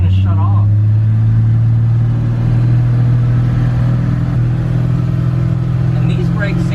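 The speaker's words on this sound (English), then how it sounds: "It's moving, but like anytime I give it gas, it feels like it's gonna shut off." Engine of an old Chevy C10 barn-find truck being given gas while it rolls, a steady low rumble with a faltering, stumbling edge as if close to stalling, running under a person's talk.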